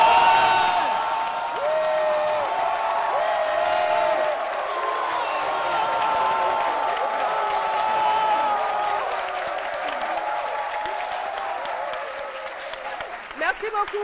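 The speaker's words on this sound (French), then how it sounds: "Nous allons l'applaudir." Studio audience on a midday Ivorian television show applauds and cheers to welcome a champion athlete, a broad wash of clapping and whoops that lingers under a presenter's voice and fades toward the end.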